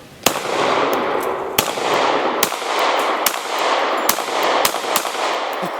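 An FN 5.7 pistol fires 127 grain hollow point rounds: about seven sharp, loud shots at irregular intervals over a steady outdoor background, with no talking.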